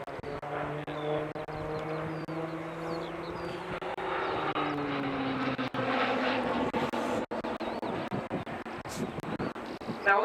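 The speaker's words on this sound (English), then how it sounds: "this is a basic fast jet training aeroplane" A basic fast jet training aeroplane flying at the RIAT air display, a loud, sustained engine roar with a pitch that slides downward as it passes, heard alongside a voice commenting.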